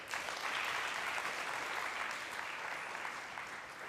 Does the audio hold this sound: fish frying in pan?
no